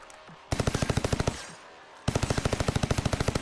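In Call of Duty Vanguard, an assault rifle and a submachine gun fire two rapid automatic bursts, loud and evenly spaced, separated by a short pause.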